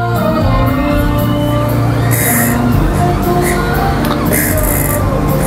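A loud crowd of fans screams and shrieks continuously at a concert at New Frontier Theater, with sharper bursts of cheering rising over music.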